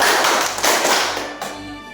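A class of fourth-grade children claps their hands together in a rhythm exercise, making a loud, close, dense burst of clapping that fades over two seconds.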